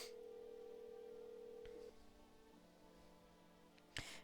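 A telephone in a video game, heard faintly: a steady dial tone holds for about two seconds, then shifts to short dialing tones ending in a brief click.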